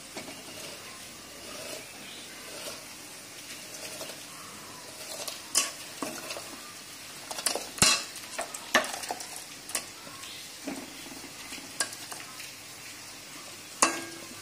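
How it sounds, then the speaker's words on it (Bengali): Raw biryani rice goes into a pot of boiling water in a home kitchen, with metal clinks and scraping stirs over a steady bubbling hiss. "ভাতের জল এবার ফুটে গেছে, আমরা এই বিরিয়ানির এই চালগুলো দিয়ে দেবো এর মধ্যে।"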